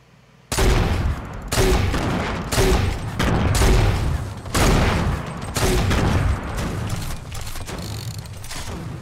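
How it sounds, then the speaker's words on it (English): Gunfire in Fortnite sounds as a series of heavy, booming shot bursts, roughly eight repeated volleys at a steady rhythm, loud and close, starting abruptly after a quiet moment. "No, he's firing at our tower."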